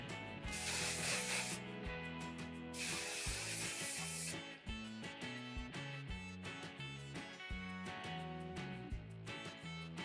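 Three sharp bursts of hairspray hiss out over steady background music, the first two long and the last cut short.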